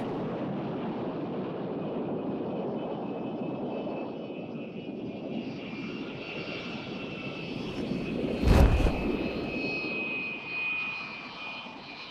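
A high-altitude spy plane flying at the edge of space produces a steady, distant broadband engine roar that holds evenly throughout, with a short louder gust near the end and no voices.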